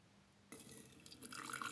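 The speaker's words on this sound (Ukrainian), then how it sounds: "Будемо наливати водичку." Boiling water pours into a 1000 ml Krauff glass French press, starting abruptly after a quiet moment and building into a steady, rising gurgle as the vessel fills, faint and close.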